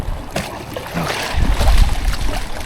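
A fishing cooler is rinsed out with water, with splashing and gushing sloshes that swell and grow louder partway through, close and fairly loud with no talking.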